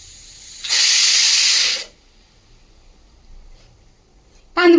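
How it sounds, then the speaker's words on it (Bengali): A pressure cooker whistles once in a loud, sharp hiss lasting about a second while dal cooks, then quiet follows before a voice breaks in at the end. "প্রেসার কুকারে সিটি পড়ছে"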